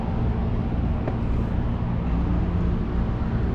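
Hiboy S2 Max electric scooter being ridden outdoors, giving a steady, loud rumble of wheels and wind with a constant low drone and no pauses or talk.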